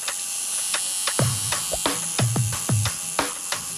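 A tattoo machine buzzes steadily while an artist inks a restaurateur's arm at Spiral Tattoo, with short, louder bursts of motor whir repeating every half second or so, close up.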